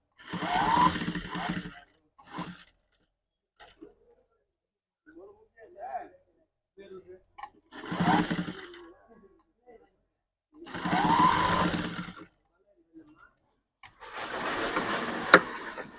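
Electric sewing machine stitching cloth for a stylish kameez flower, running in several loud bursts of a few seconds each, with pauses between where someone talks.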